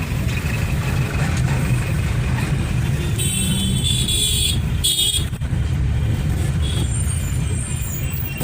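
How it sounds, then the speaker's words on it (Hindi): Busy road traffic heard from inside a moving Tata Nano near a crossroads in North 24 Parganas, India, a constant engine and road rumble with passing vehicles, horns and hissing brakes mixed in. "यहाँ पे भी बहुत ट्रैफिक होता है।"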